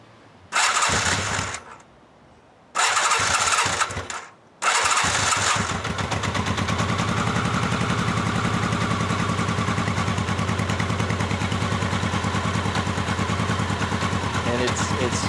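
A 1983 Honda Nighthawk motorcycle engine, running only with the choke on, cranks in two short bursts with a pause between them. It catches on the third try and settles into a steady, even idle that runs close and loud to the end.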